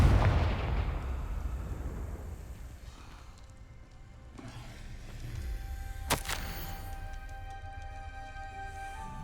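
The Confringo blasting spell in Hogwarts Legacy goes off as a booming fiery explosion with a rumbling tail, then a sharp crack-like burst a few seconds later over a low ambient game backdrop.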